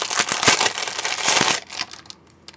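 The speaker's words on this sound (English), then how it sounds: "I'm going to open my double-sided sticky tape." Double-sided sticky tape being opened for a paper craft, a close series of crackling, crinkling peels and snaps that grow dense, then thin out into a few faint ticks near the end.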